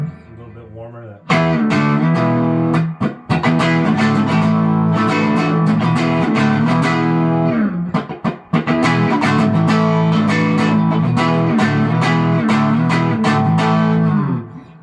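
Schecter Loa of the Dead electric guitar played through its middle pickup for a warmer tone, loud sustained strummed chords ringing almost continuously with a brief break midway.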